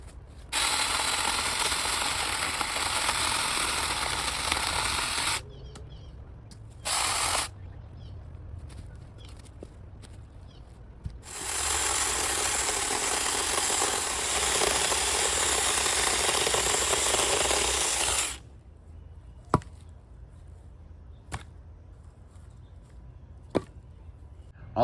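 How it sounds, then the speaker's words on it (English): A small mini chainsaw cuts through a tree trunk and debris in a backyard, with two long stretches of steady buzzing plus a brief burst between them, each ending abruptly, followed by quiet with a few sharp clicks. "I'm really impressed with this little chainsaw"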